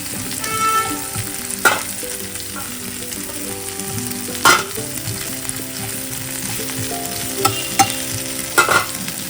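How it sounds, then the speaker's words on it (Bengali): Okra (bhindi) frying in a pan: a steady, moderately loud sizzle runs throughout, broken by a few sharp scrapes and clinks of a stirring utensil against the pan, with no talking. "স্টিমে করে ভাজতে হবে যাতে ভেন্ডিগুলো ভালো করে ভাজা হয়ে যায় নরম হয়ে যায়"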